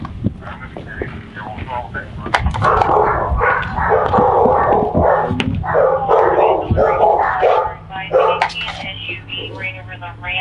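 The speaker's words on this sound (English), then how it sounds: "You said there's dogs in the pens?" Dogs bark from pens at a law enforcement facility, several yips and barks coming through alongside steady close conversation from people talking over them.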